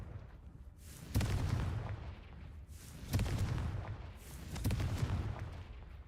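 Confringo spell blasts in the Hogwarts Legacy video game, three heavy booming explosions about two seconds apart, each with a sharp onset and a rumbling decay, with no talk.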